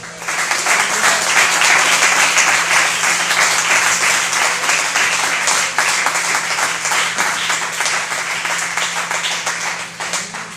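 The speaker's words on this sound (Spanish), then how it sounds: "Le podemos dar un aplauso." A church congregation applauds together, a dense, steady wash of clapping that fills the room from start to finish and eases off slightly near the end, with a faint low hum underneath.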